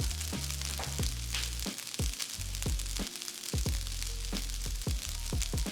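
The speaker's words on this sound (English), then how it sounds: "I also like to spread the rice across the pan and leave it from time to time so it develops a bit of a crust at the bottom" Kimchi fried rice crisps in a pan with a steady, close sizzle, broken by repeated scraping strokes of a utensil across the bottom.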